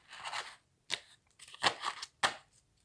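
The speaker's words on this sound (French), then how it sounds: "je range les autres cartes" Tarot cards being gathered up and put away, a few sharp papery slides and snaps in separate bursts, close and clear with quiet gaps between them.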